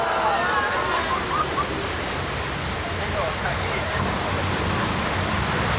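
Water cascades down a hill on the Universal Studios tour, a dense, loud, continuous roar of rushing water that fills the whole stretch without pause.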